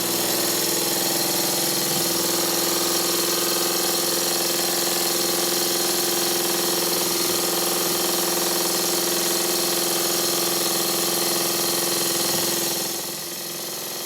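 Stuart 10V model steam engine running on compressed air at high speed, a steady, even mechanical whir with rapid internal beat, close and continuous, easing off slightly at the very end; no talking.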